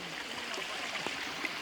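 Water from a small clear creek flows and trickles steadily in a quiet wooded setting, a soft continuous gurgle heard close by with no other sound.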